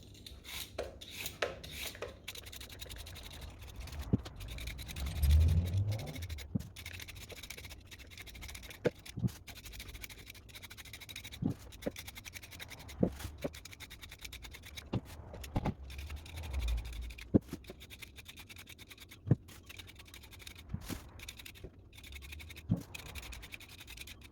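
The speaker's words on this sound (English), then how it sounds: "So let's get busy peeling." Vegetables being peeled by hand: soft, repeated scraping strokes come in an irregular rhythm, close and quiet, with occasional light knocks and no talking.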